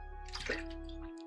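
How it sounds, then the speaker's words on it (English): A single quick gulp of water, short and close, over a faint steady tonal background that cuts off just afterward. "you're gonna just hear me jug water"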